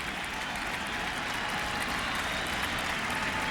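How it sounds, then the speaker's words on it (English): A baseball stadium crowd cheers and claps for the home pitcher, a steady, dense roar of applause holding at an even level throughout, with no single voice standing out. "The crowd tries to get behind Hermanson, who's in trouble."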